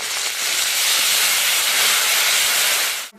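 Turmeric and spices hit with a splash of water in a hot pan while a vegetable khichuri is cooked, giving a loud, steady, close hiss that holds for about three seconds and then cuts off abruptly.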